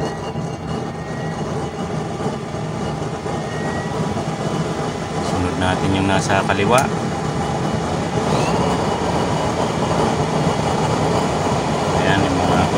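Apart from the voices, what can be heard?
blowers of burner chambers switched on for flame test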